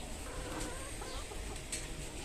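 Chickens and roosters on a small farm cluck nearby over a steady background murmur, with a couple of brief sharper calls standing out.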